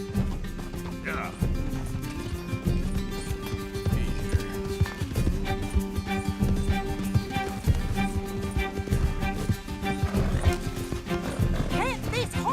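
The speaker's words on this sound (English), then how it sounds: "Can't this horse go any faster?" Horse galloping in Red Dead Redemption 2, rapid rhythmic hoofbeats clattering under game music, with neighs and whinnies breaking through and voices talking over the ride.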